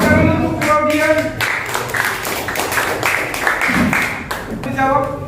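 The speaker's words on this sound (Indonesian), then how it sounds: "Berikan tepuk tangan untuk Claudia." Classroom audience clapping for a student in an Indonesian school lesson, a short burst of hand claps blending with voices and talk throughout.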